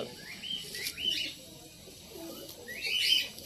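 Pigeons in a home loft give faint, scattered chirps and soft calls in a quiet room, with a few brief rustles between them and no talking.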